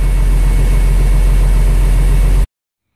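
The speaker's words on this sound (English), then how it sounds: "I've let the engine run here a little bit" International IH 4900 truck engine idling with a loud, steady, low diesel rumble up close, running evenly before cutting off abruptly into silence.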